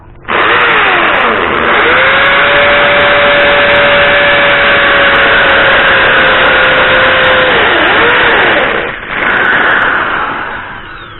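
An electric impact drill in hammer mode bores into a masonry wall, giving a loud, continuous grinding whine for about nine seconds, a brief dip, then a short resumption alone.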